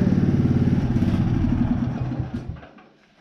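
A broken-down riding lawn mower tractor engine sputters and chugs loudly for a couple of seconds, then stumbles and dies away into silence.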